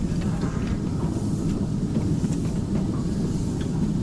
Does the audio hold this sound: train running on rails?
yes